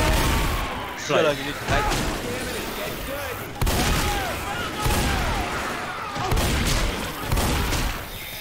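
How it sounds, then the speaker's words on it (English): Gunfire bursts in Left 4 Dead 2 during night gaming, loud rapid shots and booms repeating through the stretch, with players talking over the action. "Apparently no one knew she was going to shoot."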